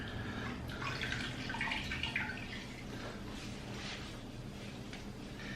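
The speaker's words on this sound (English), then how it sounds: "Dunk them in water, wring them out, and then crumble them into your hamburger meat." Stale bread being dunked in a bowl of water and wrung out for Great Depression–style burgers, giving soft trickling, dripping and squelching close up, steady and unaccompanied by talk.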